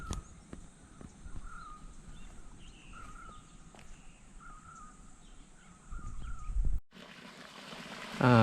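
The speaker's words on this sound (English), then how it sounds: "This is you call Peel, the natural water stream." A natural water stream near Gendagala village trickles softly and steadily outdoors, with birds calling and cawing over it and a louder burst of noise near the end.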